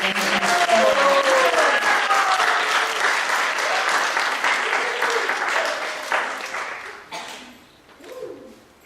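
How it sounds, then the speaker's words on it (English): Sustained audience applause at a Sunday School graduation, dense and steady for several seconds with a few voices mixed in, then thinning and tapering off toward the end. "give all of this, the older kids, a big round of applause"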